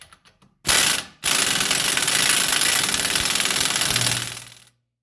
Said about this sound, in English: ratchet down on our axle nut